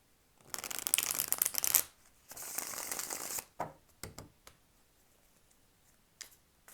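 Tarot cards riffle and shuffle in two quick bursts, followed by a few soft taps and clicks as the deck settles.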